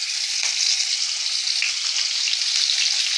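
A brinjal ring set into hot oil, a loud steady hiss of frying, close and unbroken for the whole stretch, with no talking.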